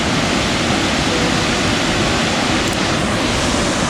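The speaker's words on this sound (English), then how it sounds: "Now that's a waterfall." A waterfall in a West Virginia state park roars steadily at close range, a dense, unbroken rush of falling water that fills the whole clip without pause.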